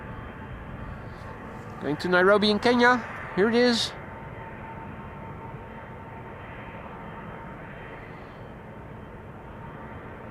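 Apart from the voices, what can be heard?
Boeing 777 jet engines spooling up at Schiphol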